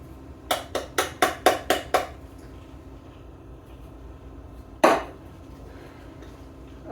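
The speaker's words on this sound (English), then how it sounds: "So we're going to add a can of diced tomatoes." Diced tomatoes from a can go into a cooking pot: seven quick metallic taps in a row, then a single louder clank a few seconds later, close and otherwise quiet.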